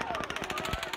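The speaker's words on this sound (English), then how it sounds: "the first shots rang out in Las Vegas" Gunfire from news footage of the Las Vegas mass shooting fired from the Mandalay Bay at a crowd of country music fans: a rapid, continuous automatic burst of closely spaced shots filling the whole second, harsh and loud.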